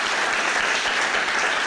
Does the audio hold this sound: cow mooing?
no